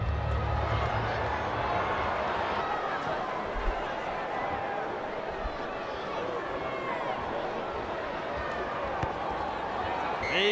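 A noisy crowd roars with a dense, continuous wash of cheering and babble at a rugby league match in Las Vegas. The din stays loud and steady throughout, with a few scattered thumps.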